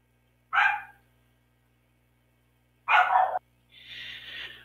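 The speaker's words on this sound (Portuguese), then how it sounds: "o cachorro que não para de latir" A dog barks in separate bursts: a short bark, a long pause, a louder bark, then a higher whining yelp. The bursts sound fairly close against a quiet background with a low steady hum.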